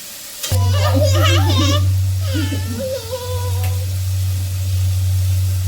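Food sizzles softly in a pan while a child babbles briefly and a steady low electrical hum runs throughout.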